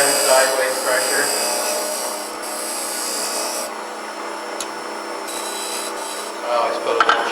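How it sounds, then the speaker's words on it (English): Steady rasping and scraping of a wood-cutting tool carving a recess for a tenon, close and continuous with a few sharper scrapes, while someone talks over it. "So this isn't a big cut, you're just cutting the recess for that tenon roll."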